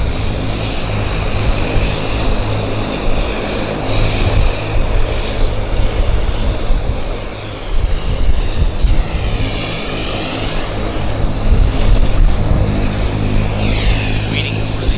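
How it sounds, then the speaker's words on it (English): An Air Canada airliner at Vancouver Airport roars steadily and loudly throughout, a thick continuous engine rumble with whining tones drifting in pitch, lasting the whole stretch. "Aircraft is heading to Toronto. It's the Air Canada Flight 34."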